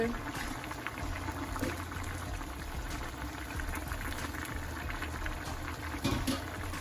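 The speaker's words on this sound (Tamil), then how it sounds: "அவரும் நல்லா கொதிச்சிட்டார் மைசூர் பருப்பு" Mysore dal (red lentils) bubbles in a pot at a steady simmer, a continuous soft gurgle with occasional small pops, close by.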